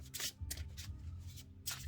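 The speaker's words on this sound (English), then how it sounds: "I really like the way they shuffle" Oracle cards being shuffled in several quick riffling bursts, with soft handling noises between them, close by and fairly quiet.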